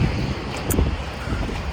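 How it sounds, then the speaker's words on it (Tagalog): Steady wind roaring across the microphone at a bus stop in Canada, a continuous low buffeting rush with no talking. "Ang hangin."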